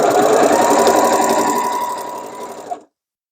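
A sewing machine runs steadily while stitching a denim tote made from upcycled jeans, giving a fast, even mechanical whir that stops abruptly near the end.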